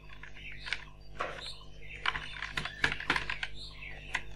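Quick, light clicks of typing on a computer keyboard, irregular bursts of keystrokes close up over a low hum, with no speech.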